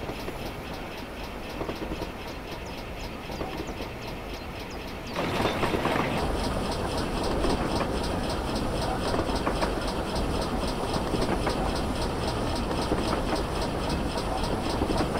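A Great Western prairie locomotive rolls with its brakes released on a level line in a train simulator game, a steady rumble and rail clatter that swells louder partway through and continues evenly without speech.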